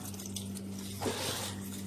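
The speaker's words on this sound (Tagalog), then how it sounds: "Patayin tubig." Tap water runs steadily into a sink while mung bean sprouts are washed by hand, a continuous close splash and trickle that swells briefly midway, with a low steady hum beneath and no talk.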